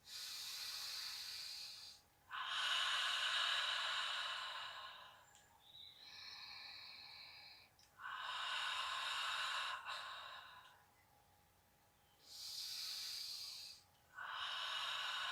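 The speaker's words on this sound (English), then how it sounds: "in through the nose. Out through the mouth. 3 more lovely dragon breaths." Dragon breaths during a breathing exercise, slow deep inhalations through the nose alternating with long airy exhalations through the mouth, several clear close cycles with pauses between and no talk.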